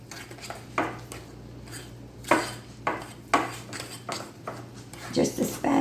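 Peanut butter cookie dough is stirred by hand with a spatula or spoon in a bowl, giving repeated scraping, clinking strokes at an uneven rhythm, close and fairly quiet.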